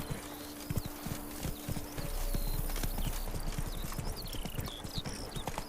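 Hooves of Roach, Geralt's horse in The Witcher 3: Blood and Wine, clip-clop steadily in a trotting rhythm, with birdsong chirping over a quiet outdoor ambience and no talking.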